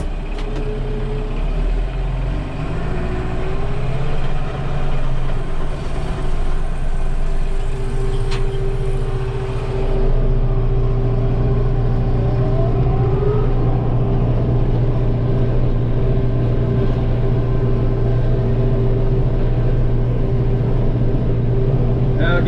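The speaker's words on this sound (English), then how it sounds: "This tractor is a little large for that mower, but no regrets about running it with it" A 70 horsepower tractor runs with a mower attached, a loud steady engine drone with a constant low hum that shifts slightly in pitch partway through, with a voice talking over it.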